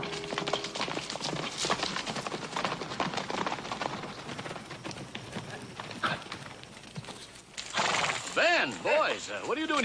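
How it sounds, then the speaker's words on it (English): Horses whinny loudly near the end, after steady hooves clopping along under a voice and background music. "Charlie, take the horses."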